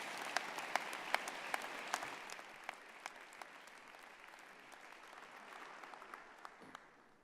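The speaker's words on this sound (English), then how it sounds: "I think we just give him a big round of applause" Audience applause for a graduate at a university convocation ceremony, a hall full of clapping with distinct sharp claps standing out early on, slowly tapering and growing softer and sparser toward the end.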